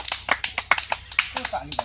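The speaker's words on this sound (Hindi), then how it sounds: "ताली बजाओ सब बच्चे लोग, ताली बजाओ" Children clap in a quick, uneven rhythm of sharp claps, close by at a magic show, with a voice speaking over them.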